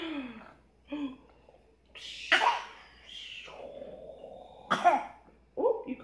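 A young child coughs in short, separate bursts at breakfast, several rough, throaty coughs spaced across a few seconds, close to the microphone with a few quiet vocal sounds between them.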